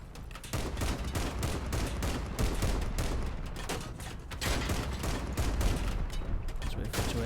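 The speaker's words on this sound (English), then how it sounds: "He's using an MG, I'm using a proper gun." Sustained machine gun fire from a Crossout vehicle battle, rapid rhythmic bursts hammering loud and close for several seconds, with other weapons mixed in and no talk.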